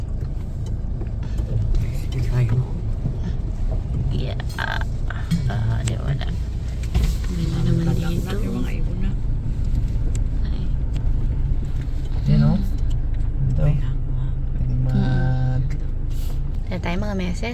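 A motorized tricycle rumbles along with a steady engine drone and road noise, close and continuous, while people chat over it in Tagalog.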